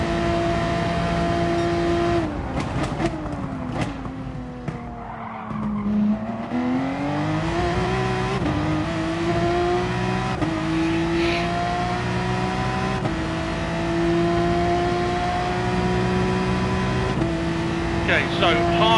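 Race car engine in Gran Turismo Sport at Red Bull Ring, revving and pulling through gears with pitch rising and dropping across shifts, tire squeal and skids mixed in, steady and loud throughout under a talking voice.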